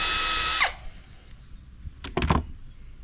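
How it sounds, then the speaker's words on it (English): A power drill driving a screw whirs loudly for under a second, then winds down, followed by a few sharp clunks and rattles. "So drill it in there."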